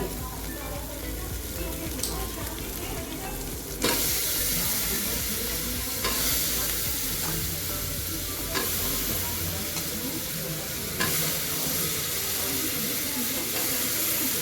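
Pumpkin pieces hit a hot pan already seasoned with turmeric and are stir-fried, giving a loud, sustained close sizzle with a sharp surge when they go in and periodic scraping stirs.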